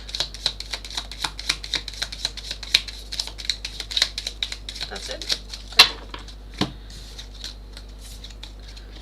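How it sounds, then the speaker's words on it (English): Tarot cards are shuffled by hand in a rapid run of crisp riffling clicks, close by, ending with a couple of sharper snaps. A person speaks briefly over the shuffling. "I want another shuffle."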